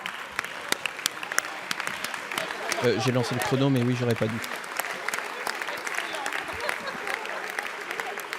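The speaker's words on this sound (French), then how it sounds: "Peut-être d'ailleurs qu'on peut tous se lever pour tous les applaudir" Members of the French National Assembly applauding, a spread of scattered claps across the chamber heard under someone speaking in French.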